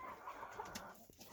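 Naked Neck chickens about four months old cluck softly at close range in an enclosure, a few short calls in quick succession.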